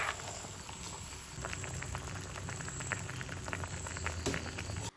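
A tomato-based Alappuzha-style white sardine (vellori) fish curry gravy boils in a pan, giving a continuous bubbling and popping patter with irregular small plops, fairly close and alone, ending abruptly.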